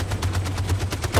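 Rapid automatic gunfire in the video game Detroit: Become Human, a loud, evenly spaced burst of about a dozen shots with a low droning hum underneath.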